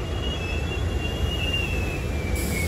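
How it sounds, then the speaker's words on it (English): A commuter train pulls into Ardmore station, a steady rumble of rolling wheels under a thin sustained squeal that drifts in pitch, heard close and alone. "here's train 3537 bound from Malvern, stopping at Ardmore at 5:20."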